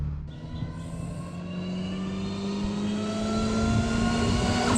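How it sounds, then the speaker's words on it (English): Blitz supercharger on a Toyota Altezza whines steadily as the car drives, a rising tonal whine layered over engine drone, loud and continuous with no talk. "So that being said, the supercharger, yes, you expect the whining sound from the supercharger."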